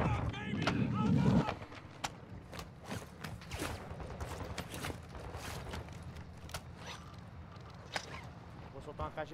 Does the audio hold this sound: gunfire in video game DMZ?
yes